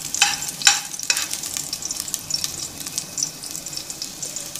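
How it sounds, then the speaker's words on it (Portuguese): Garlic frying in a pan before meat goes in for a pot roast, with a steady close sizzle, a few sharp crackling bursts early on and faint stirring or water sounds underneath. "E primeiro a gente vai dar uma fritadinha no alho."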